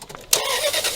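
A long-idle wrecked Dodge Dakota pickup cranks and its engine catches, a short loud burst of starter noise turning into running engine roar, close up.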